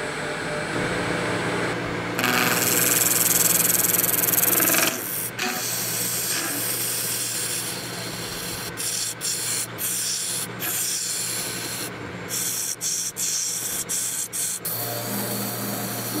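An epoxy resin gear shift knob with a Lego Thor figure inside spins on a lathe while a tool cuts it, giving a continuous rasping, scraping hiss over a motor hum, broken by brief pauses and several short interruptions.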